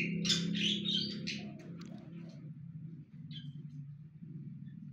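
Wild birds chirp and call around an aviary trap cage outdoors, a burst of bright close twittering at the start fading to sparse calls over a steady low rumble.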